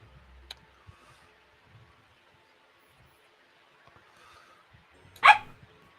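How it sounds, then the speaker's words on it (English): A single dog bark sounds late, a short sharp burst standing out over a quiet room, with a couple of faint ticks earlier on. "That was my dog."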